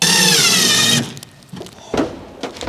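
A small power drill whirs loudly and steadily for about a second, then cuts off, leaving faint knocks and handling noises.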